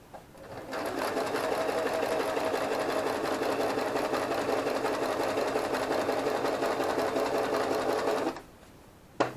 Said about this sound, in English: we just sew it, like I said, we're sewing it all inside out.